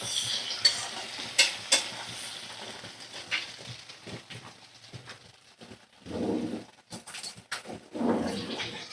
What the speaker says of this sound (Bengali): আর 2 মিনিট নাড়াচাড়া করে নেব।